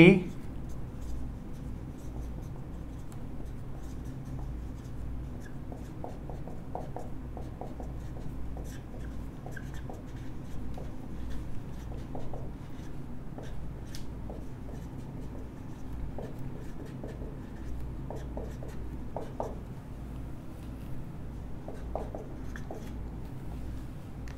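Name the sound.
writing the chemistry mechanism on the board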